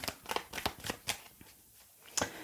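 Tarot cards laid out during a reading make soft, quick snaps and slides, a handful of crisp flicks in a loose rhythm with a short pause, close but quiet, with no speech.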